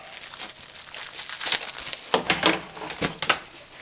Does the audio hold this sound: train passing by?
no